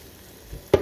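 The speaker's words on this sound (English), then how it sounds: "salsa and it's gonna start making this delicious frying sound" Salsa poured into a pan of frying egg for aporreado, a Guerrero dish, bursts into a loud sizzle near the end after a quiet lead-in, close up with no talking.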